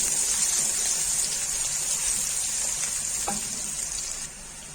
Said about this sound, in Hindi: प्याजों को थोड़ा सा फ्राई कर लूंगी